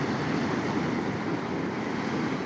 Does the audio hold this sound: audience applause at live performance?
no